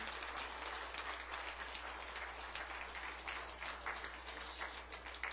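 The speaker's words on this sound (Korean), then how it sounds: "그 하나님께 영광과 찬양의 박수를 올려드립니다." A church congregation claps in praise to God after a Christmas Day sermon, a soft, fairly quiet stretch of steady group applause over a low hum, with no voices on top.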